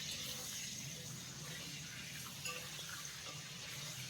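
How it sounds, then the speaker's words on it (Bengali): Potatoes frying in a covered pan over a medium gas flame, with a steady, soft sizzle throughout and occasional faint clinks. "গ্যাসের ফ্লেমটা মিডিয়ামে রেখে আলুটাকে লাল করে ভেজে নেব।"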